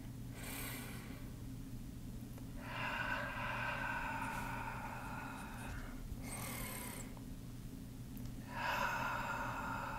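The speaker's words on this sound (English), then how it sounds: "Let's close our eyes and just focus on our breathing for a moment." Slow, audible breaths rise and fall in long drawn waves during a guided meditation, over a low steady hum, with no talking.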